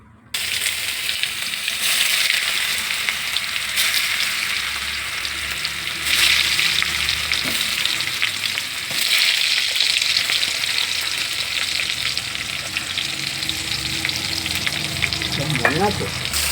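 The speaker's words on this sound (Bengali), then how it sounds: "এবারে এই যে কড়াই তেল দিয়েছি, তেলটা গরম হচ্ছে, এবারে মাল মশলা দেবো, তারপরে 5 মিনিটের মতো কষে নেব" Spices fry in hot oil in a wok for a chicken curry, a steady loud sizzle with periodic scraping and stirring strokes that briefly swell, continuous throughout and without talking.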